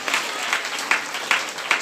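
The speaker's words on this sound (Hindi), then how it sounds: "इसलिए आप लोग 23 ताली के साथ परमेश्वर को धन्यवाद दीजिए।" A congregation at a Hindi-language prayer meeting claps in unison, sharp regular beats about every 0.4 seconds over a light crowd murmur.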